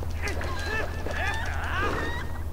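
A chicken clucks in the video game The Legend of Zelda: Twilight Princess, a few short, squawky calls in quick bursts over a steady low background hum.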